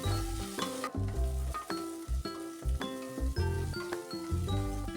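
Onions, ginger-garlic paste and mint leaves sautéing in a pan for bottle gourd biryani, a steady close sizzle with stirring scrapes and soft clinks throughout.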